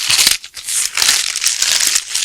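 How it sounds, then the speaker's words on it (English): Moulded polystyrene packaging is pulled from a pair of Paradigm 200B bookshelf speakers during unboxing, giving close, continuous squeaky crinkling and crushing with brief pauses and no talk. "The next step is to have a look at the moulded polystyrene."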